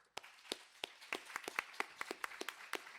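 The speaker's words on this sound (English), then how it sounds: "a big round of applause for Owen" Scattered applause from a small audience closing a talk on Owen Barfield and the Inklings, with sharp, uneven individual claps building into a light patter, fairly faint.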